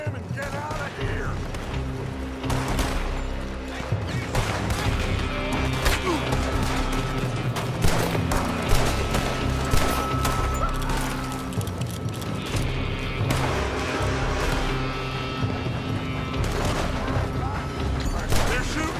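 Gunfire crackles through a Red Dead Redemption 2 shootout, with repeated shots and booms filling the scene over a steady, busy background that runs throughout.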